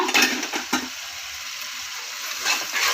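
Chicken biryani base with yogurt and mint being stirred in a pot, giving close scraping and sizzling strokes in the first second, then a steady soft sizzle before more stirring near the end.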